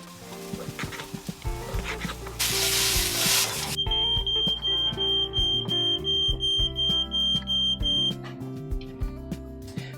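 A smoke alarm goes off while pizza cooks on a stovetop aboard a sailboat, its steady shrill tone sounding for about four seconds over clattering and rubbing. It stops partway through and kitchen noise continues.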